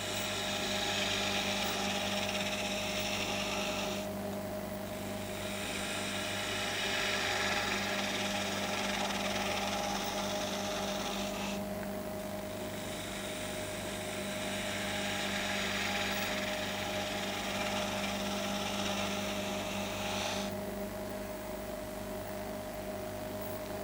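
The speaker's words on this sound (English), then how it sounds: "you see me moving the gouge along and rolling it over, moving it along and rolling it over" Wood spindle turning on a lathe, a gouge moved along and rolled over the work: a steady, loud high hiss of cutting over a constant motor hum, easing off briefly at a few points, with no speech.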